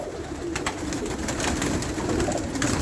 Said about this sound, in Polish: Właśnie wyłapuję gołąbki, które mają tu zostać z Budapesztu